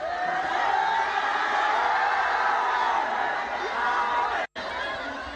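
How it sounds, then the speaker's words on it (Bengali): A stadium crowd at a sports closing ceremony, a broad sustained roar of cheering and chatter at a distance, steady and loud with a brief abrupt cut near the end. "করতালি আর কলকাকুলির উচ্ছ্বাসে মুখর পুরো স্টেডিয়াম"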